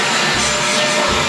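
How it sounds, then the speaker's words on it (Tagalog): A vacuum cleaner runs steadily and loudly upstairs, drawing up dust with a continuous broadband roar that stays level throughout, with no voices over it. "balikan po namin kayo kasi maingay yung vacuum"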